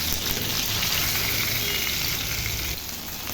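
Hilsa fish sizzles and crackles in hot oil in a pan just after being turned over, a dense, steady frying hiss heard up close with no voices.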